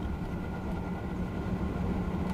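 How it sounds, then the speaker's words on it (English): French high-speed train running in Train Simulator on the LGV Rhône-Alpes line, a steady low rumble with rolling wheel noise, fairly quiet and continuous, no voices. "Look at this though, it's a lovely train."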